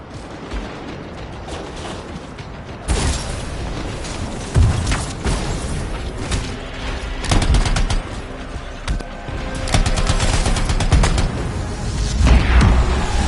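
Enemy Scars open fire in the video game Anthem, a busy stretch of gunshots and mechanical clatter with several louder bursts and booms over a constant battle din.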